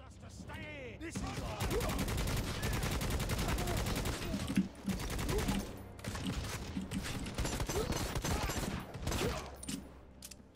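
Assault rifle gunfire in the video game Necromunda: Hired Gun, loud sustained automatic bursts of rapid shots that break off briefly once and then continue.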